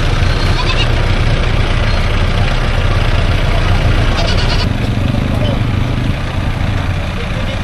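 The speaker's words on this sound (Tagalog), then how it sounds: "Ganito kalaking kambing." Goats bleat amid a loud, steady engine drone, with muffled voices mixed in throughout, at a livestock auction in Padre Garcia, Batangas.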